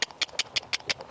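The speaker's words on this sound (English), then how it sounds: "Canter." A horse canters, its hooves striking in a steady three-beat clip-clop rhythm, close and fairly loud.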